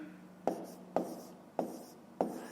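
Numbers written by hand, four quick scratchy pen or chalk strokes tapping down at an even pace, close but quiet, with no talking.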